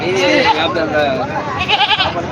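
Goats bleat repeatedly at a busy weekly goat market in Parbhani, Maharashtra, their wavering cries close and loud, layered over constant crowd chatter and people talking.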